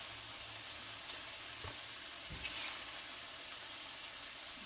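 Paella ingredients brown in a hot pan with a soft, steady sizzle and a couple of faint knocks as they are moved.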